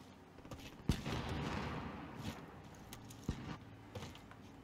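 Gunfire in the Warzone battle royale video game: a couple of sharp, loud shots stand out at distinct moments over a steady rumble of game ambience and scattered distant pops, with no talking.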